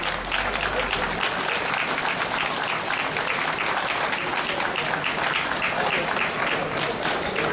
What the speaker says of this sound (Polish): I oklaski serdeczne.